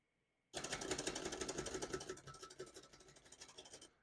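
Typing on a 1937 Remington Noiseless Model 7 portable typewriter: a brisk, even run of soft muffled key strikes starts abruptly after a moment of quiet, close and continuous, easing slightly toward the end.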